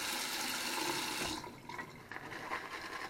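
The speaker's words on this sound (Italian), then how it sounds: "Adesso due gocce d'acqua ci vanno" Water pours steadily from a tap onto shaving soap, then stops and gives way to soft wet sounds, all at low level with no one speaking.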